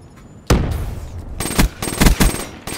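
Gunfire in a shooter video game: loud, close bursts of rapid shots in uneven clusters, with short gaps between volleys.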